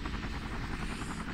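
A helicopter in the video game Emergency 3 gives off a steady, rapid rotor chop with a low droning hum, continuous and fairly quiet with no talk over it.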